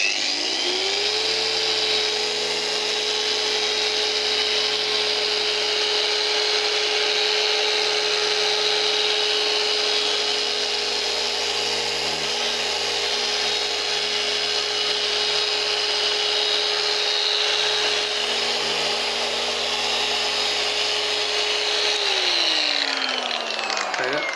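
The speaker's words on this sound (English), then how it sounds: "I'm going to start polishing on kind of a medium speed just to start with, just so we can see how this paint reacts" A machine polisher runs at medium speed on car paint, a steady loud whine held for the whole stretch with a constant motor tone, starting up at the beginning and winding down near the end.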